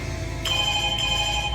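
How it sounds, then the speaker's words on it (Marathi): A telephone ringtone sounds at close range with a steady electronic tone and no voices over it. "फोन असतोय."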